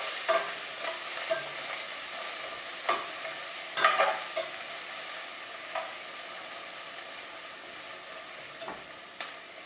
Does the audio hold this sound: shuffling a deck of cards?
no